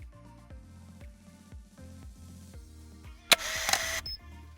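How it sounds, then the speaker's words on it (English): A camera motor wind sound effect plays as a steady series of mechanical ticks and whirs, then ends in a sharp, bright click burst near the end, with no voices. "the next sound effect, that is going to be the camera motor wind 4."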